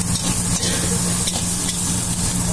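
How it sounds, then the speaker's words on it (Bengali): Cashews and raisins sauté in a pan for chicken pulao, giving off a steady, close sizzle with faint stirring scrapes throughout. "তারপরে হালকা সতে করে দেবো"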